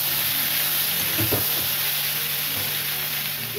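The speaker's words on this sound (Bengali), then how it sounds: "আলুগুলো আমার সিদ্ধ করে নিয়েছি, ছোটো ছোটো করে কেটে এই কাঁকড়ার সাথে আলুটাকে ভেজে নেব" Boiled, diced potatoes frying with small crabs, turmeric and salt in a pan produce a constant dense sizzle with a few stirring scrapes, close and steady without voices.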